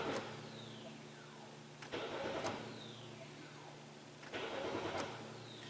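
A warmed-up car's starter cranks three times without the engine catching, each attempt a rough, grinding burst. A descending whine follows each burst as the starter winds back down. The sound is fairly faint, and no one talks.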